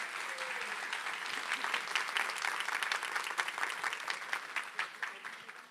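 Steady applause from an audience after a talk at an education innovation event, a dense even patter of many hands that continues without a break and slowly tapers near the end, with no voices over it.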